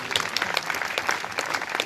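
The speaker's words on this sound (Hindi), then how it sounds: "तो एक बार सभी कवियों के लिए जोरदार ताली बजाने का निवेदन।" Sustained applause from an audience honouring poets at a Holi gathering, dense steady clapping from many hands, fairly close and loud throughout.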